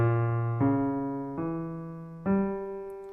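Four piano notes are struck one after another and held, stacking into a tense, dissonant fully diminished seventh chord that rings out.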